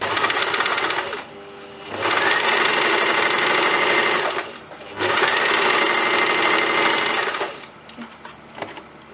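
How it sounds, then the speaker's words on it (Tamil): A sewing machine runs in two long, steady bursts while stitching a tulip sleeve seam, loud, close and evenly whirring, with a short pause between runs and a stop at the end. "இங்கேருந்து ஆரம்பித்து இங்கே வரைக்கும் ஒரு தையல் போட போகிறோம்"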